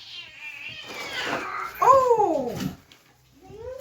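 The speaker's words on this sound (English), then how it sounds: "Nudged my cat away." A pet cat gives a loud, drawn-out complaining meow after being gently moved off a table, its cry rising and falling close by, with a person briefly exclaiming at the start.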